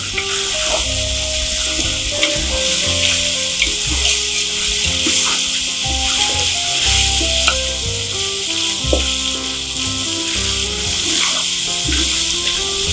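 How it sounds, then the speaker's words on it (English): Tomato paste frying together with meat in a pan for an Italian meat sauce, with a loud, steady sizzle and stirring scrapes throughout and a low tonal hum underneath. "you mix the tomato paste and fry with the meat and everything like this"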